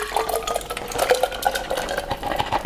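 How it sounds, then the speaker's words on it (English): Soaked cashews with their soaking water tipped into a blender jar, close wet clatters and splashy knocks in quick irregular bursts. "In here I have 100 grams of cashews. These have been soaking in hot water. There's about 100 mils, 150 mils in there. They just go into the blender."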